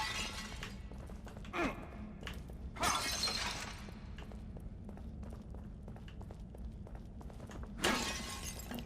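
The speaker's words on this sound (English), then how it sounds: "the player is constantly busy breaking boxes and smashing vases" Ceramic vases smashed in The Evil Within, three separate crashes several seconds apart, each a sharp burst of breaking pottery, with quiet footsteps and a faint sigh between them.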